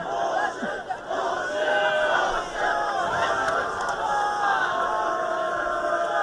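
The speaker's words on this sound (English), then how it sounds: "Getting some serious boos from out there." A high school soccer crowd boos and jeers from the stands, the sustained mass of voices carrying steadily across an outdoor field with a few louder shouts rising out of it.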